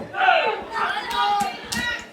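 A wrestling crowd cheering for PokéJack during a JCW BadTime match, a loud surging roar with shouts rising and falling in waves, mixed with voices.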